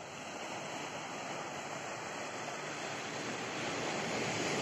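Waves at Sokot beach roll in as a continuous, full-bodied wash of surf, steady and fairly loud throughout with no voices over it.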